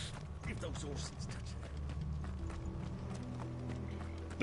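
Horses gallop in the video game Final Fantasy XVI, a steady rapid clip-clop of hooves mixed with rattling tack and game sound, fairly close and continuous.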